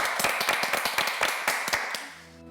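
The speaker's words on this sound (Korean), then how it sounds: "박수 한번 주시고 교수님께" A small audience at a Korean nursing-school talk show gives the professor a brief round of applause. The sharp, individual claps are distinct and irregular and fade out after about two seconds, followed by a sustained tone.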